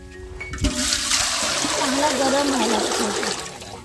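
Water poured steadily into a large cooking pot for boiling oysters, a full splashing gush that fills the pot and fades toward the end.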